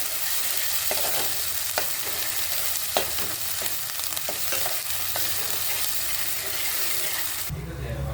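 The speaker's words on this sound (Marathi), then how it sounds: "हे छान असं परतून घ्यायचं आहे" Masala paste roasts in a pan with oil, a constant dense sizzle broken by repeated sharp taps and scrapes of a spoon stirring, the frying fading abruptly near the end.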